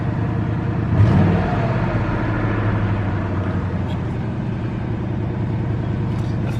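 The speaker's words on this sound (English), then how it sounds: "RPMs went up when I gave it gas." A car engine on a vehicle fitted with a Chinese digital dash, with a close, loud, steady engine drone that rises briefly as the throttle is blipped, then settles back to a rumbling idle; a person talks over it.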